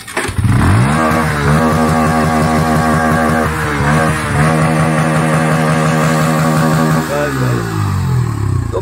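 A Bajaj Pulsar N160 motorcycle engine starts and revs up and down repeatedly, loud and close, with a steady throb between throttle blips and a falling note as the revs drop near the end.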